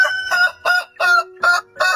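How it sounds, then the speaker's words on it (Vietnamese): A red rooster calls loudly and close by in five evenly spaced bursts, with short silent pauses between them. "Một bác gà trống màu đỏ chót đi ngang qua, trông thấy quả trứng, bác liền kêu thật to."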